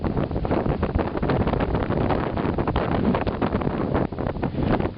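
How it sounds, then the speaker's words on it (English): Strong wind on the Plymouth coast batters the microphone in a continuous, loud, buffeting roar that runs unbroken throughout, with no voices heard. "It's very windy."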